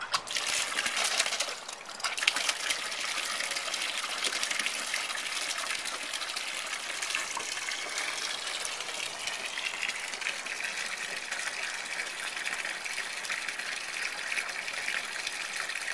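Water pumped into a tube rushes in a steady, full gush that holds the same level all the way through, with a brief stutter near the start.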